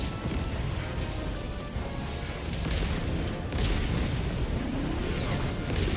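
An orbital laser strike in Helldivers 2 sets off a dense, continuous wash of rumbling booms and crackling blasts that swells slightly midway, with no clear talking.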